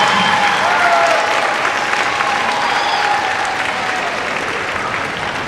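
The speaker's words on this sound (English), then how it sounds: "Can we give them a round of applause?" An elementary school concert audience applauds fourth grade teachers, a loud, sustained round of clapping from a crowd that fades slightly toward the end.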